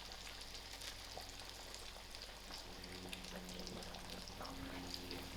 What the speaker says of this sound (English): I will allow this to fry till it's golden brown.